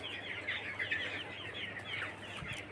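Chickens, some of them sick with colds, cluck and chatter continuously at a moderate distance, a busy, overlapping flock sound over a low steady background hum.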